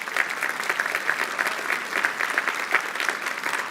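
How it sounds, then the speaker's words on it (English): An audience at an annual church parish meeting applauds continuously, many hands clapping in a thick, sustained roar with no voices breaking through. "So please give these folks a big round of applause."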